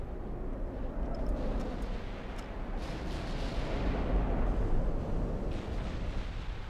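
Warship artillery in the naval battle game Ultimate Admiral: Dreadnoughts, a dense rolling rumble of distant gunfire and explosions, steady and low, with no voices.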